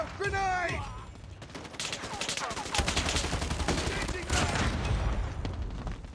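Rapid gunfire bursts rattle through a Call of Duty team deathmatch, automatic weapons firing in dense volleys amid game effects, with a player's voice shouting over the shots.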